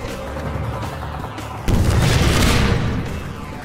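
Rocket launcher firing and exploding in Half-Life 2's Strider battle, with a busy rumbling game backdrop suddenly giving way to a loud, sustained blast and boom that lingers for over a second before easing off.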